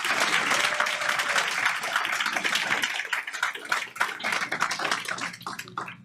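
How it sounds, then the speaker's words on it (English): An indoor audience at a government address at the Internal Revenue Service in Austin, Texas, breaks into sustained, dense applause that thins into scattered claps toward the end. "let's give a round of applause to everybody"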